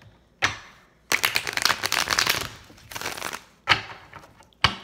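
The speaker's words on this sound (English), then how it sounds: "I'm going to do a few more here, shuffles, to see what's going on." Tarot cards being shuffled in bursts, with crisp riffling and flapping bursts separated by short pauses and a few sharp taps, close and fairly loud, with no voices.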